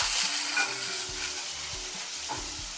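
Onion frying in hot oil in a home kitchen pan: a steady, close sizzle runs throughout, with soft scraping stirs and a few spatula knocks.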